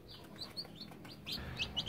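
Day-old chicks about ten days into brooding cheep in a brooder box, a scatter of thin, high peeping calls overlapping at close range against low background hiss.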